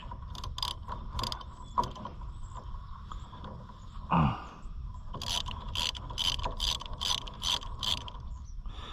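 A ratchet loosening bolts on an oil cooler during work on a vehicle called Mighty Whitey, bursts of rapid metallic clicking pawl strokes, close and loud, with a brief scrape midway before a quicker run of clicks.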